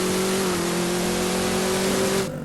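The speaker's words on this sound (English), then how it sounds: "starting off here with a nice little pass just to show what the car can do" Ford Mustang Foxbody on a pass, its mid-pitched engine roaring loud and steady as it accelerates hard, the note holding strong before cutting off abruptly near the end.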